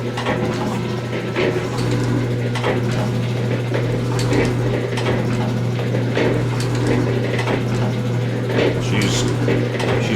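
An 1889 G&E metal shaper cuts with a shearing tool, throwing long curly chips: a steady low mechanical hum with rhythmic ratcheting clicks and scraping strokes repeating throughout, loud and close.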